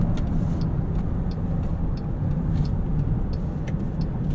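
Inside a 2022 Jeep Grand Cherokee 4xe Overland plug-in hybrid SUV on the move, a steady dense rumble of road and tire noise with a faint engine drone runs unbroken throughout, and no one speaks.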